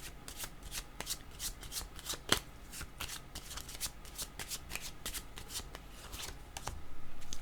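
Tarot cards shuffled by hand in a quiet room, a dense run of crisp riffling flicks and slaps with one sharper snap midway, growing a little fuller toward the end, close up with no talking.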